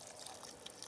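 Lukewarm water is poured into a container for mixing animal brain to tan a wapiti hide, giving a faint, soft trickling and splashing close by, quiet and continuous for under a second.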